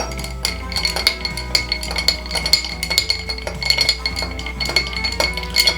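Ice cubes clink and rattle continuously against a glass as a rum Old Fashioned is stirred, a close, busy, rhythmic jingle with no talk.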